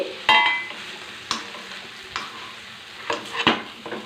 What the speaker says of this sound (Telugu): దీంట్లోనే కొద్దిగా నూనె పోసుకుని, టమాటాలు వేపుకున్నాం కదా